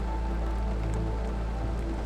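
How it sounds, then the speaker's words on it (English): Steady rain patters on surfaces in Yosemite on a cold, freezing-rain day, a dense continuous hiss close by with no voices. "It hasn't stopped raining."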